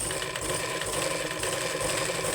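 A sewing machine runs steadily while sewing a double stitch, giving a loud, continuous mechanical whir with fast, even clattering from the needle mechanism, close up and with no voices.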